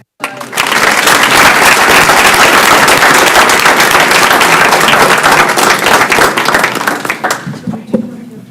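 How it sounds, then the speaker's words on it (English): Loud, sustained applause fills a school board of education meeting, a dense crowd clapping steadily for several seconds before tapering off near the end. "Please just give another round of applause."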